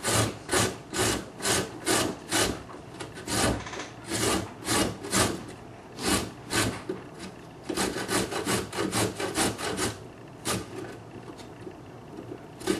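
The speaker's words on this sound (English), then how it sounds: "Just take your box grater, get it on a, I guess it's a larger side, and just go down" A large carrot is grated down the coarse side of a box grater with quick, even rasping strokes, one after another in a steady rhythm, close and clear.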